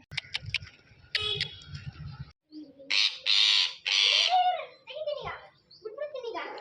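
A pet parrot gives several loud, harsh squawking calls up close, broken by quieter chatter, with a voice and some clicking heard between the calls.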